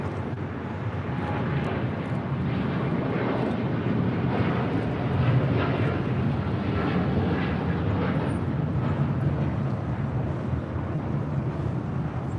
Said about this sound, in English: 602 taking off to Amsterdam on a 787-10 Dreamliner.